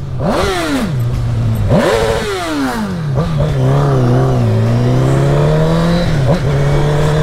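A Honda CBR1000 Repsol sport motorcycle engine revs hard in close, loud bursts, pitch sweeping up and falling back through several throttle blips before settling into a sustained high drone.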